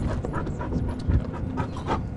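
A dog pants rapidly and steadily while playing outdoors, its quick rhythmic breaths close and fairly loud, with no voices over it.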